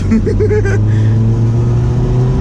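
A classic Mini's engine drones steadily at close range with a rising, revving tone, while a voice briefly sounds over it at the start.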